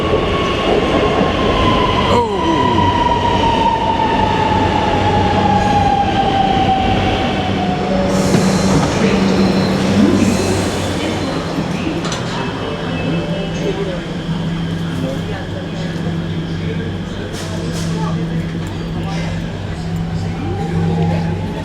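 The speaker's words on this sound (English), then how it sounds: "I think there's a train coming." India's RRTS rapid rail train arrives at a station, its loud rushing roar with a falling whine as it slows, then a steady hum and faint clicks, with someone talking now and then.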